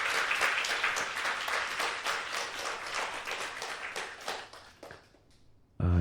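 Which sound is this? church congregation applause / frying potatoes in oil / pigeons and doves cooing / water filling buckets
church congregation applause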